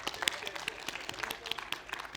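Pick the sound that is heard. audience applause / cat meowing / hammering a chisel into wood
audience applause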